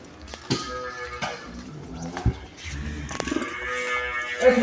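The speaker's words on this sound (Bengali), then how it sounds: "আমি একটা গরু দেখাবো আপনাদের" A cow at a household cattle shed moos in several drawn-out, fairly close calls, with scattered clatter and background noise in between.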